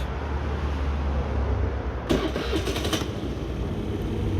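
A Honda Dio 68 scooter's small engine runs with a steady buzzing idle. There is a brief burst of higher rattling partway through, then it settles back to idle.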